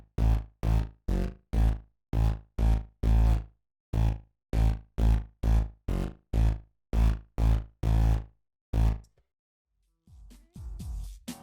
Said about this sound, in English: we have a second bass making the same pattern but with different notes